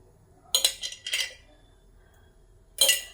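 Prawns get mixed with salt, turmeric, chili powder and a spoon of ghee, with a spoon scraping and clinking against a metal bowl in three short, close bursts separated by quiet pauses.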